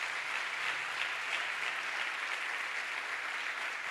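A church congregation applauds steadily, a dense even wash of clapping that holds at the same level throughout with no voices over it.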